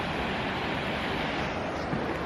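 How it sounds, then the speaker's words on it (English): A small waterfall in wintry Iceland gives a steady, broadband rush of falling water, continuous and fairly close, with a touch of wind noise on the microphone. "We have a little waterfall here."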